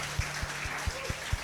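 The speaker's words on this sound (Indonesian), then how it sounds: "Tepuk tangan paling dahsyat buat Yesus" A church congregation applauding for Jesus during an Indonesian worship service, rhythmic claps heard faintly at a distance, roughly five even beats over a low background.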